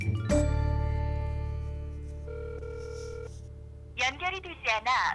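A telephone rings during an outgoing call to Jinwoo, giving a steady electronic ringback tone with a brief higher tone in the middle, and a voice speaks over the end.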